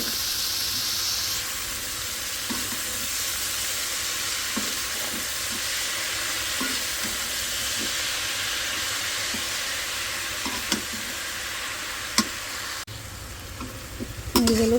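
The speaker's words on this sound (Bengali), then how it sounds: "শাক পেঁয়াজটা একটু হালকা ভেজে নিলাম" Onion and leafy greens fry steadily in a wok, a continuous loud sizzle with faint scraping stirs at intervals and a few sharper clinks near the end, with no talking.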